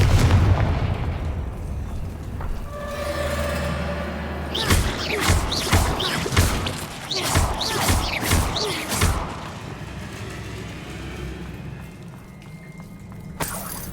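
Confringo blasting spell in Hogwarts Legacy, a run of loud explosive bangs in rapid succession with shattering debris, after a low rumbling buildup, then fading to quieter ambience.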